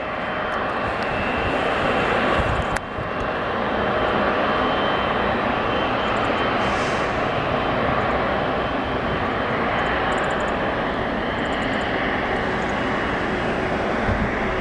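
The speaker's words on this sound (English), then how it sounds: "We'll be doing an immediate departure to Phoenix. American ERJ 175 going to Phoenix." American ERJ 175 regional jet departing Seattle airport, a loud sustained roar of engines filling the whole stretch, steady and broad with a brief thump early on.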